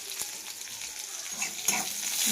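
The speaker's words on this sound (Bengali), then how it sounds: "আর দিয়ে দিলাম 2 কুচি রসুন থেঁতো করা। দেখো, আর দিয়ে দেবো একটা গোটা পেঁয়াজ কুচি।" Crushed garlic and chopped onion fry in a pan with a steady close sizzle and a few sharp pops and stirring scrapes over about two seconds, no talking.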